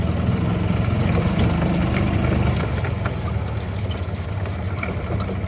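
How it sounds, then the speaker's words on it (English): A golf cart motor runs steadily while riding out on an off-road trail for a summer fishing day, giving a loud, continuous rumbling drone with bumpy rattles and no talking. "Doing a little golf cart riding."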